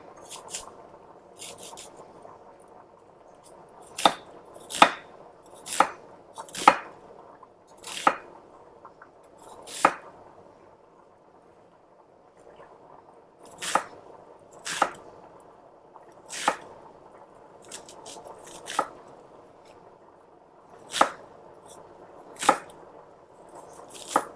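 A knife chops an onion on a cutting board in sharp, separate thuds, some in quick clusters and others spaced apart, with quiet pauses between bursts.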